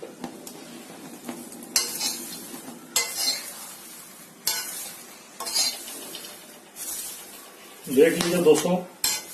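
Popcorn kernels popping now and then inside a covered pan after the gas is turned off, with scattered light pops and clinks and a brief denser burst near the end, under occasional talk.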